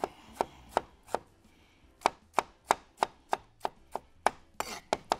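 Tomato being chopped on a cutting board for grouper fish kebab, a run of about fifteen crisp, close knife strikes in a fairly steady rhythm with a short pause near the start, no talking.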